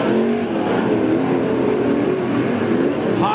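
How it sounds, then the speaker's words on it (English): Crate late model race cars roar around an oval dirt track at Boyd's Speedway, a dense, steady engine drone with shifting pitch as the field races through the turns, loud and continuous. "Ethan Hunter into three, into four, he fires at the tire."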